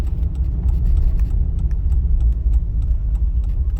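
A car drives along an uneven road in second gear during a practical driving exam, its engine a steady low rumble throughout with small rattles and jingles from the cabin and no talk.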